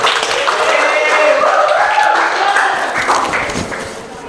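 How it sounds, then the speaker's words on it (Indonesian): Students in an economics micro-teaching classroom clap for a classmate, a dense stretch of nearby hand claps that tapers slightly toward the end, with voices talking over it. "Tepuk tangan untuk Arum."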